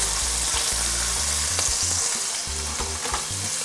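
Thin veal slices sizzle loudly in a hot pan, a steady crackling fry with occasional sharper spatters and scrapes, close up and continuous with no talking.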